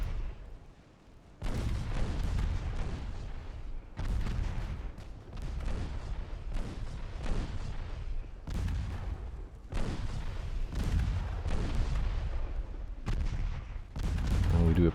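Naval guns in Ultimate Admiral Dreadnoughts fire on a transport convoy in a run of about seven heavy, booming salvos. Each blast rolls out over a second or two before the next, and they repeat steadily at close range.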